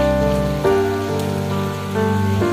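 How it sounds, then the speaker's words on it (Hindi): Heavy rain pours steadily in a dense, constant wash during a monsoon downpour, with a sustained tonal hum running beneath the hiss throughout. "बारिश इतनी ज़्यादा तेज है"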